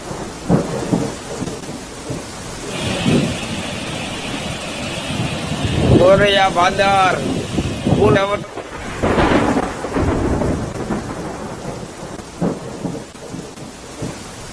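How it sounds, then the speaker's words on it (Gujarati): Heavy, continuous monsoon rain with rumbling thunder in Gadhada taluka, Gujarat, a steady wash of downpour under a voice talking throughout. "ગઢડા તાલુકામાં સતત વરસાદ વરસી રહ્યો છે"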